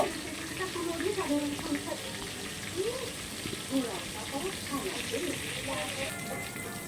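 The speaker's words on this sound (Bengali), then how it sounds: "দেখেছো? মাছগুলো এভাবে ভেজে নিতে হবে।" Catfish (magur) pieces fry in hot oil, a steady crackling sizzle running throughout at moderate level with a voice speaking over it.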